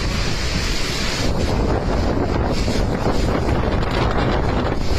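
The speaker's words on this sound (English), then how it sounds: "towering waves 8 meters high slamming into seawalls" Typhoon Podul in Taiwan, with towering storm waves slamming into seawalls under a constant roar of surf and heavy wind buffeting the microphone, loud and unbroken.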